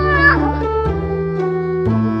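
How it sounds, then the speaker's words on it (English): A domestic cat gives a medium-length meow, a steady tonal call with shifting pitch lasting about two seconds, close and clear with no talk. "A medium-length meow might be a request for water or food."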